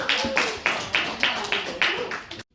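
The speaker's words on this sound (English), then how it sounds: "give them a round of applause" About eight sharp, evenly spaced hand claps sound close by in a steady rhythm, then stop abruptly into silence.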